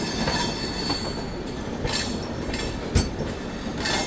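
The East Coast Express on a parallel line runs close by with loud rolling rumble, wheel clatter and high metallic squeals that come in bursts, heard alone without talk.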